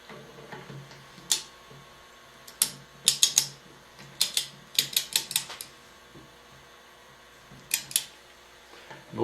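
Torque wrench tightening engine bolts a little at a time during an engine rebuild, with quiet clusters of sharp ticking clicks separated by brief pauses.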